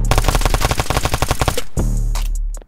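A rapid burst of automatic gunfire from a heavy-recoil gun in a Roblox hood roleplay game rattles out in about a dozen evenly spaced, loud shots. The burst stops, and a brief low echoing tail follows.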